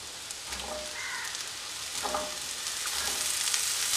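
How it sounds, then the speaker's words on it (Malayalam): Taro pieces tipped into a hot pan sizzle loudly and continuously, a dense close crackle that swells slightly as they fry and get stirred. "ഇനി ഇതിലേക്ക് നമുക്ക് ചേമ്പിട്ട് കൊടുക്കാം"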